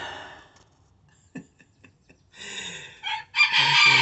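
A rooster crows among laying hens in a backyard coop, with scattered clucks and ticks in a quiet stretch first and then two loud, harmonic calls toward the end, with no talk.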